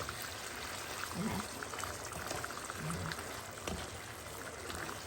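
A tomato and fish sauce simmers down in a pan, a soft continuous bubbling and sizzle with occasional small pops, steady and moderately close throughout.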